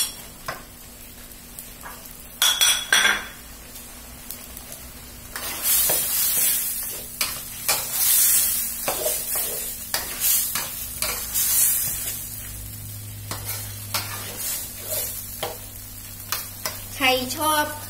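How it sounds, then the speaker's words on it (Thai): Fried sausages are stir-fried in a pan with onion and carrot for a spaghetti sauce. Steady sizzling runs throughout, with repeated scraping stirs and clinks of a utensil against the pan, close and fairly loud. "อันนี้เราก็จะใส่ไส้กรอกที่เราทอดเตรียมเอาไว"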